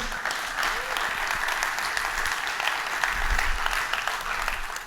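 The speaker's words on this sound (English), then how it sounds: "big round of applause for Mike" Conference audience at a reCAP software talk applauding a speaker as he is introduced: an unbroken, moderately loud round of clapping throughout.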